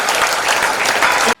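Loud, steady audience applause from a crowd at a Tamil debate event marking Kamarajar's birthday and Education Development Day in Kumarapalayam, filling about a second and a half before cutting off abruptly.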